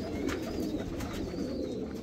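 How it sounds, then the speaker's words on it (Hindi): Teddy pigeons cooing steadily over a low, continuous murmur, their soft calls overlapping in a constant close-up flock sound. "बहुत खूबसूरत कबूतर हैं"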